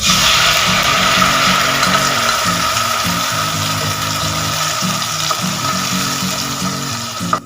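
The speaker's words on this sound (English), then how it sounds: "Heat some oil, add the onion paste" Onion paste fries in hot oil in a pan for taro (arbi) curry: a loud, steady, close sizzle with a rhythmic scraping undertone from stirring, running throughout with no talk.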